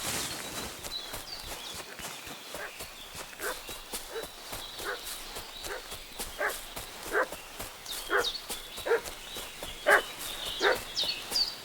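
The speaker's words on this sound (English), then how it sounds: "What's that dog making such a fuss about?" A dog barks repeatedly in an agitated run within the video game Kingdom Come Deliverance 2, moderately distant at first and growing louder and more insistent, over faint outdoor ambience.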